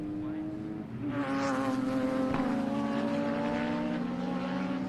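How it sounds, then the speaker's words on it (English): Porsche Carrera 964 race cars battling on a circuit, engines swelling from a distant hum into a loud, steady droning roar with shifting pitch as they pass close, no talk over it. "So a couple of Carrera 964s battling"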